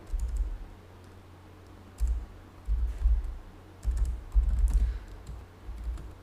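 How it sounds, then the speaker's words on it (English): Typing on a computer keyboard while entering text in Notepad, with a few short bursts of soft keystrokes separated by brief pauses, close and fairly quiet. "create a file called readme and type hello world in it"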